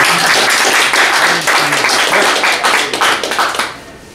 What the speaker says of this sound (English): I think we ought to clap for that.